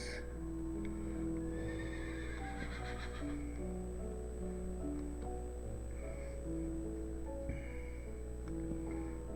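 A Minecraft horse gives a couple of clear, high whinnying neighs over a steady low hum, with no talking.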